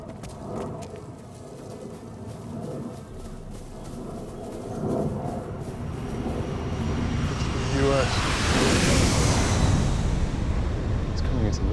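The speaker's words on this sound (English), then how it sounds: "It's coming into land. And, it's not American, it's Russian. It's a blackjack stealth bomber." A Russian Blackjack stealth bomber coming in to land, its broad jet roar swelling steadily from a low rumble to a loud, close rush over about twelve seconds.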